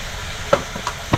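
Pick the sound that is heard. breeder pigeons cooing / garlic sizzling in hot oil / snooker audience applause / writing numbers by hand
garlic sizzling in hot oil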